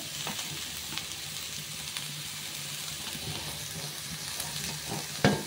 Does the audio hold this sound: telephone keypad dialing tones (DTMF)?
no